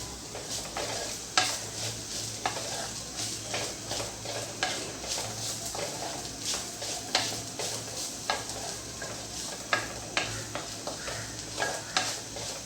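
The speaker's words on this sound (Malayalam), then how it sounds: "ഇപ്പോൾ തേങ്ങ നന്നായി ഒന്ന് ഫ്രൈ ആയി വന്നിട്ട് നല്ലൊരു ഗോൾഡൻ കളർ വന്നിട്ടുണ്ട്" Grated coconut sizzles steadily as it fries golden in a pan, with a metal spoon scraping and clinking at intervals as it is stirred.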